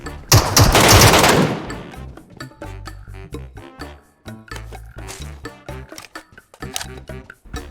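Rapid automatic gunfire in the mobile shooter Metro Royale blasts loudly in the opening seconds during a boss fight, followed by game sounds and scattered bursts.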